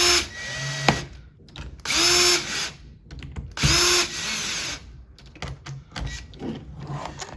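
Power drill driving screws during a CBXR Mini installation, three loud whirring bursts with short pauses between, close up and alone with light clatter in the gaps.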